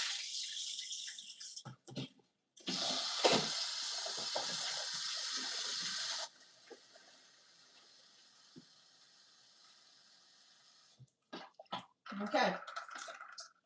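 Oxtail being rinsed and rewashed under running kitchen tap water, a steady hiss of flowing water broken by clatters and pauses, with a brief spoken word near the end.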